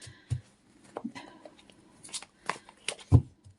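Tarot cards are shuffled by hand in a series of short, soft riffles and taps, irregular and close, with quiet pauses between bursts.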